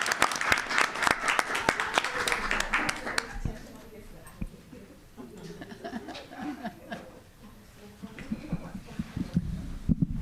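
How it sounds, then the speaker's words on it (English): School board meeting audience applauding cadets: a loud burst of many hands clapping for about three seconds, then it fades into quieter room murmur, chuckles and talk. "round of applause to all the cadets"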